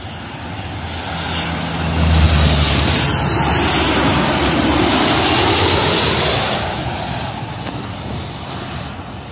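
An airplane lands in a crosswind at KLIA airport, its engine roar swelling loudly from a low rumble, peaking for several seconds, then easing off as it passes nearby.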